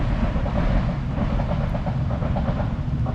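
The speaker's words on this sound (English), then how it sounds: "And on cue, we're the train." A train passing at Carpdell Fisheries, a loud steady rumble with a rhythmic clickety-clack of wheels on the rails, close by and continuous throughout, with no voices.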